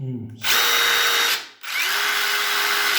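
A DeWalt DCF887 cordless impact driver with a worn, wobbly chuck spins up loudly in two bursts, a high whirring whine that stops briefly between runs, heard close with no talking.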